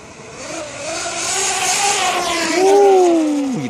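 HOBAO Hyper MT Sport+ RC monster truck driving, with a whining electric motor and wheel noise that climbs in pitch, then drops sharply as it passes close by, with no talk.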